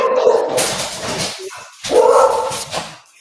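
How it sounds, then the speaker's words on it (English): A pet dog barks loudly and close by: two long, drawn-out barks with a short pause between them, with no one talking. "My dog."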